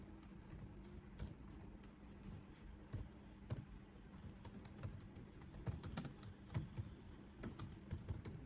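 Soft, quiet typing on a computer keyboard while writing HTML code, an irregular patter of close key clicks over a faint background hum.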